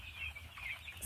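Fourteen-day-old meat chickens clucking eagerly at feeding time, a busy flock chorus of overlapping soft clucks and chirps close by, continuous over a low background rumble.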